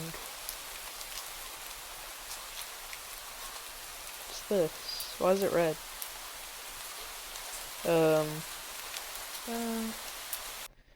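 Steady rain falls as a soft, even hiss throughout, heard up close, while a voice speaks a few short phrases over it.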